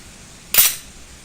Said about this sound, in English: I'm going to go ahead and gently pull the trigger and pull the slide down to release it